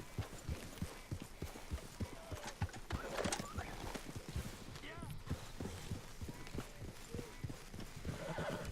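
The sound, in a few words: horse riding in video game Red Dead Redemption 2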